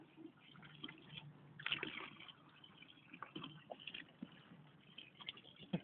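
A dog plays in a water fountain bowl, close-up splashing, dripping and trickling of water in soft irregular bursts, faint and continuous.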